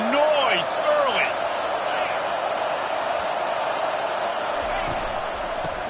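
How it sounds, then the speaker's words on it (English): Crowd noise from a stadium in an NCAA college football video game: a broad, steady roar filling the whole stretch, with a commentator's voice and a few whistle-like tones near the start. "This crowd bringing the energy and noise early."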